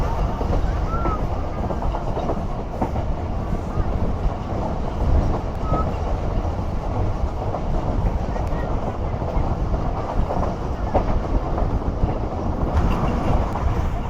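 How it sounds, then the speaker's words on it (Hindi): The Rehman Baba Express passenger train runs along the track in winter, heard as a constant, close, broadband rumble with faint rhythmic wheel clatter throughout and no distinct pauses. "हमारी ट्रेन जो है ये भी अब रोड ट्रैफिक से रेस लगाती हुई आगे बढ़ेगी"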